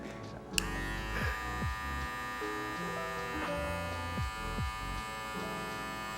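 An electric hair clipper buzzes steadily and close during a fade haircut, its drone running throughout while voices talk and background music plays underneath.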